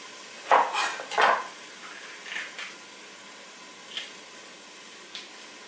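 A knife chopping baby peppers on a cutting board in a home kitchen, a few clustered knocks near the start followed by sparse, lighter taps and clicks.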